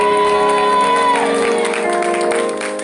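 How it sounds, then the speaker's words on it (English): A church congregation claps steadily beneath organ or keyboard chords, a dense wash of hands with some cheering, loud and continuous. "Put your hands together as you pray."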